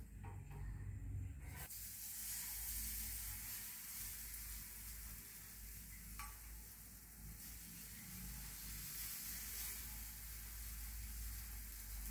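Gram flour amboli batter sizzles steadily on a hot pan, a continuous soft frying hiss that stays fairly faint and even throughout, with a brief knock near the start and no talking.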